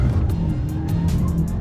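A 2018 Hyundai i30N hot hatch drives under power, its engine and exhaust giving a loud, continuous growl from inside the car with faint crackles, steady through the short stretch.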